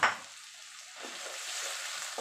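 Prawn masala with spicy chili powder frying in a pan, producing a quiet, steady sizzle after a brief opening clatter, with no voices.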